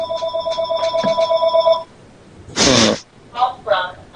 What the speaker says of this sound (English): Forgive me, it's the house phone.